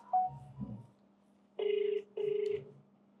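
Two electronic ringback tones play during a phone call, each a steady buzzing burst under half a second long with a short gap between them, after a few faint murmurs.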